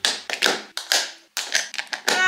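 Souvenir magnets are stuck one after another onto a surface, giving a quick series of crisp, close taps in an uneven rhythm, about a dozen sharp knocks over a couple of seconds.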